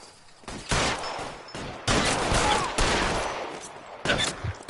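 Gunfire in the detective game LA Noire during a street shootout: several separate bursts of loud, close shots, each lasting under a second, with short quieter gaps between them.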